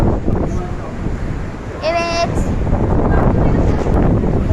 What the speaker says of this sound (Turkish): Rüzgar burada.